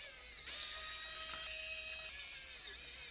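A small electric screwdriver whines steadily while backing out screws from a Mac Mini M2 Pro during a teardown, a close, continuous high-pitched motor tone with a slight pitch shift partway through.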